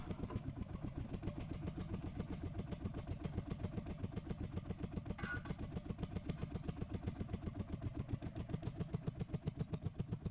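A vintage hot bulb engine chugs steadily, a fast, even train of low thumping beats that is close, loud and unchanging throughout, with no voices.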